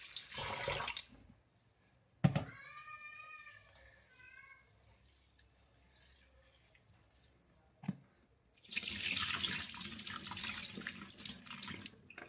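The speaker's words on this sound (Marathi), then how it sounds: "हे तांदूळ आणि उडीद डाळ स्वच्छ धुवून घेऊया." Rice and urad dal being rinsed in water: splashy bursts of running and sloshing water at the start, middle and end, with quieter dripping and handling between and a faint bird-like chirp.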